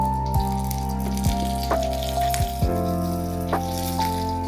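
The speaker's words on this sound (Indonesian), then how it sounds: "Ini air dari bekas gilingannya, kita kasih air ya." Water from rinsing the ground spice paste is poured into a pan of frying spices with bay leaves, lime leaves and lemongrass stalks, making a steady, close, continuous rush without talk.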